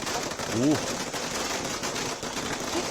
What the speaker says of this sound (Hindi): आतिशबाजी देखो भाई साहब, क्या